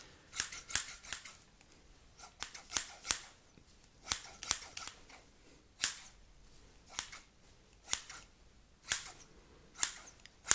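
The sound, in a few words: scissors cutting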